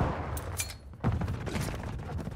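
Rapid gunfire in a Call of Duty match, with dense bursts of shots continuing almost without a break and a heavier burst near the middle, loud and close.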